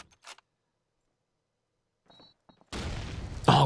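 Grenade blast in Call of Duty 2: after near silence and a few faint clicks, a sudden loud burst of explosive noise erupts and rumbles on for about a second, ending in a sharp final crack.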